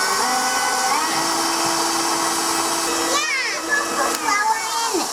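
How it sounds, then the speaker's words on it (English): A KitchenAid stand mixer running steadily while kneading yeast bread dough, giving a continuous whirring hum, with children's voices and some clatter over it. "This is what you're doing when you're kneading, except we're not kneading it, we're doing it with the KitchenAid."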